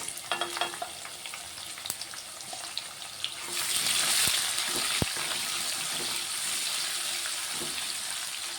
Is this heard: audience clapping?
no